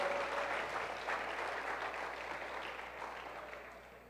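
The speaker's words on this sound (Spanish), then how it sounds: "Denle un aplauso al Señor" A church congregation applauds during a service. Dense, sustained clapping fills the room and fades gradually toward the end, with no speech over it.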